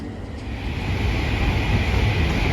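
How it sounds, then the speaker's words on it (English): A London Northwestern Railway electric multiple unit pulls out of Bletchley station, a steady low rumble and hum that grows slightly louder over a few seconds, with no speech. "there goes the 1146 London Northwestern Railway service to London Euston"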